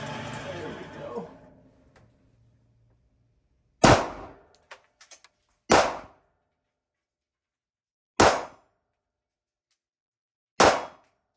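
Four sharp, loud pistol shots ring out on steel targets at an outdoor shooting range, spaced about two seconds apart, each with a bright metallic clang and short decay, following a stretch of low talk and rustling at the start.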